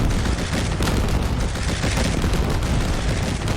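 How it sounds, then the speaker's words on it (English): A 30mm grenade launcher fires in the DCS combat flight simulator, a dense, continuous burst of rapid booming shots filling the whole short stretch with loud, rattling noise and no talk. "It is the 30mm grenade launcher."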